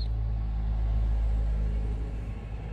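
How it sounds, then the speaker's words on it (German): A large car goes by outside, heard as a loud, steady, low engine and road rumble that holds for a few seconds without any voices. "ein Auto, ein großes Auto."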